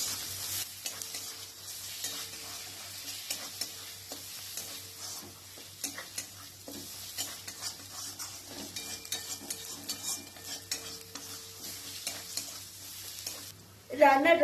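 Green chili and garlic paste being stirred in a hot pan while cooking chana paneer: a steady soft sizzle with irregular scraping and tapping of a spoon against the pan, close and fairly quiet, ending in a louder clatter.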